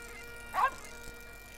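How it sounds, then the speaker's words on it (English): One short, fairly faint dog bark sounds in The Bard's Tale fantasy role-playing game, alone over a quiet background. "And there's a doggy."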